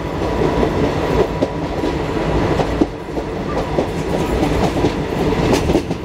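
Riding aboard the Nandigram Express passenger train in India, the ride gives a loud, continuous rumble of wheels on track with recurring clickety-clack joints and rattling carriage noise throughout.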